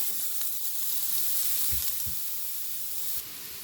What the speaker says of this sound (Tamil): எல்லாத்தையும் நல்லா தாளிப்போம் இப்போ பாருங்க ஃப்ரெண்ட்ஸ் நல்லா பொரிஞ்சிட்டுது